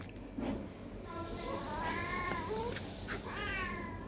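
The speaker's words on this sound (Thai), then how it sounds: "มีเสียงแมวร้องนะครับ" A cat meows a few times, drawn-out and wavering, over a low background hum.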